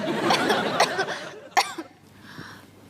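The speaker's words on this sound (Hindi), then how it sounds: "ये खांसी तो जा ही नहीं रही।" A woman coughs several times in quick, hoarse bursts with a lingering cough, close and fairly loud, followed by a quieter breathy tail.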